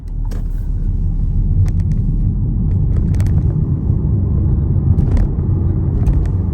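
A 2021-or-later Renault car accelerating hard from standstill in a 0 to 50 test, heard from inside as a loud, steady engine and road rumble with a few faint clicks over the top.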